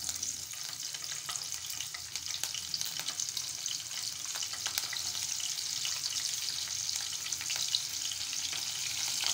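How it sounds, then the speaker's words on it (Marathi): Green chillies frying in oil for thin poha chivda, a steady crackling sizzle at moderate loudness with scattered pops and light stirring, no speech. "तर मिरच्या छान खरपूस तळून घेतलेल्या आहेत।"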